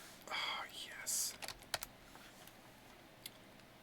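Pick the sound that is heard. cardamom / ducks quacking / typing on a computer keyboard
typing on a computer keyboard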